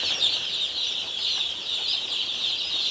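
Steady, dense high-pitched cheeping from many young poultry chicks in a brooder, a continuous chorus filling the space with no pauses.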